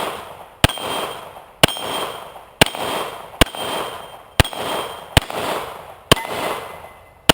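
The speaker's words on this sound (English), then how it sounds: "Kimber TLE, threaded for suppressor, shooting 147 grain Federal." A Kimber Custom TLE 1911 pistol, threaded for a suppressor, fires 147 grain Federal rounds at 12 yards on an outdoor range: eight sharp, loud shots at a steady pace about a second apart, each followed by a ringing decay.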